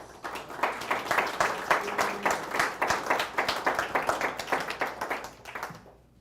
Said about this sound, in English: now is the time to give all the candidates a round of applause